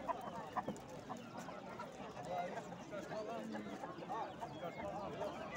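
Chickens cluck and chatter at a poultry market, a busy, fairly faint layer of overlapping calls with people talking over it.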